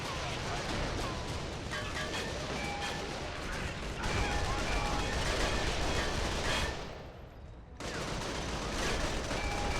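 Sustained automatic gunfire from .30 cal machine guns in The Outfit, a World War II beach-assault video game, rattling loudly in dense bursts with a short lull near the end before resuming.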